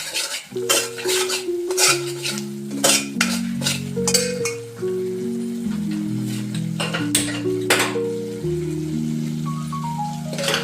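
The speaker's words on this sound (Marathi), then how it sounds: "थोडीशी कोथंबीर टाकून छान प्रकारे परतून घेणार आहे" Spices and coriander are sautéed in oil in a pan for a spicy village-style mutton curry, with repeated metallic clinks and scrapes of stirring over steady background music.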